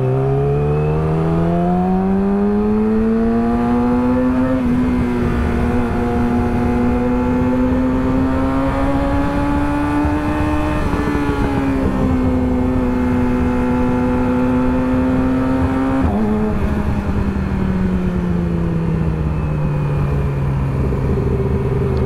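A Kawasaki ZX10R sport motorcycle runs steadily at high revs in a road race, its engine whine rising and falling through gear changes over about twenty seconds, fairly close and continuous.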